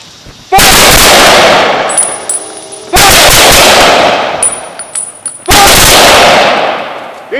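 An honor guard detail fires three ceremonial rifle volleys, each a loud, sharp crack with a long echoing decay, spaced evenly about two and a half seconds apart outdoors.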